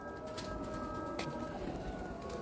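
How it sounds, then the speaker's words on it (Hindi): A Parwazi pigeon gives a soft, low cooing call, faint and close, over a quiet background hum. "बहुत शानदार कबूतर है।"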